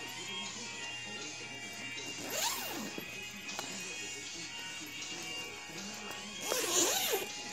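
A zipper on a pet carrier is pulled open twice, each a quick rasping zip, with a quieter stretch between the two pulls.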